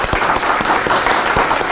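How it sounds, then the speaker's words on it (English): Loud, dense audience applause fills a room at an HIV prevention advocacy event in North Carolina, honouring the organizers with steady clapping from many hands, close and continuous throughout. "Let's give all of them a round of applause."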